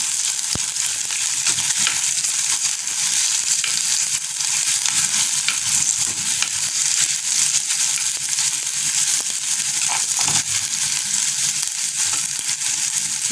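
Onions frying in a pan for a Lasia spinosa curry make a loud, steady sizzle throughout, with a few scattered crackles and pops and no voices.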